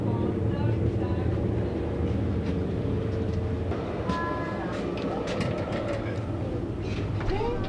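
Inside a moving long-distance European train with a restaurant car, a steady low rumble and rattle of the carriage runs throughout, with a person talking over it and faint clicks and squeaks from the cabin.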